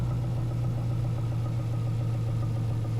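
Race car engine with turbo boost in the Assetto Corsa video game, a steady loud droning hum at constant pitch, close and unbroken for a few seconds with no talk.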